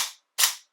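A CZ Shadow 2 pistol fitted with a dry-fire recoil system gives two sharp, loud snapping reports about a third of a second apart, close and dry, with nothing else heard.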